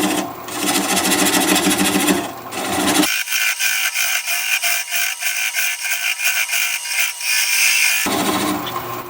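A wood lathe turns a piece of apricot wood at about 400 RPM while a gouge cuts it, giving a steady, close, gritty scraping with a rhythmic pulse from the spinning blank. The low end drops out midway, leaving a thinner, brighter texture.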